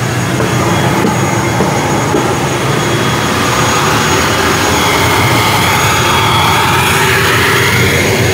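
An airplane at the small airport in El Nido, Palawan gives a loud, steady engine roar with a broad rushing hiss that holds constant throughout, close by with no talk.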